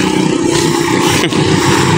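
A new motorcycle's engine runs steadily and loud nearby, a continuous mechanical drone with clattering texture and a brief dip midway, no talk over it.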